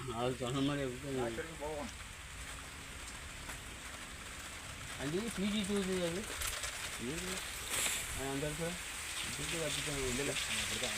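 Pressurised water gushes and sprays from a rain hose irrigation line on a banana farm in Erode district, a constant hissing rush with people talking over it at intervals.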